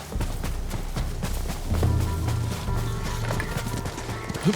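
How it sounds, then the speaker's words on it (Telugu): Horse hooves clopping steadily in the video game Ghost of Tsushima, a continuous mid-close rhythm of hoofbeats over a busy game soundscape. "ఇది గుర్రం"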